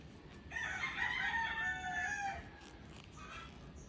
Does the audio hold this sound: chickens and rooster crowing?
yes